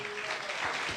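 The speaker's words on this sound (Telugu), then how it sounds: "కొట్టు చప్పట్లు గట్టిగా." An audience at a night church revival meeting claps loudly in a dense, continuous burst, many hands together close by, with no talk over it.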